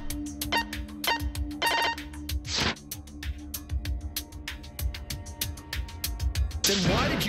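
A cell phone rings in short electronic trills during a Danganronpa V3: Killing Harmony game scene, mixed with clicking and swishing sounds over low background music.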